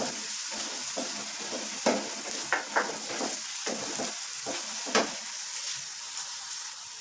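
Ginger and garlic fry in a pan with a continuous soft sizzle and crackle, broken by occasional sharp scrapes and clinks of a spoon stirring against the metal, close and moderately quiet.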